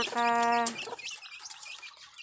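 Backyard chickens give a short harmonic squawk up front, then soft scattered clucks and rustling close by, with no talk.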